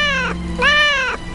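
A kitten in the Sherlock Holmes jagt Jack the Ripper video game gives two clear, close meows, a short one followed by a longer drawn-out cry.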